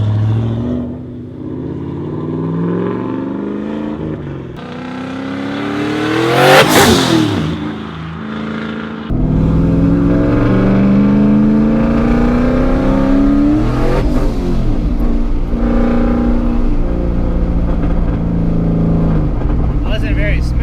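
An 80mm turbo Coyote Mustang accelerates hard, the engine climbing and dropping through repeated revs with turbo spool whooshes, loud and close, with a person talking near it.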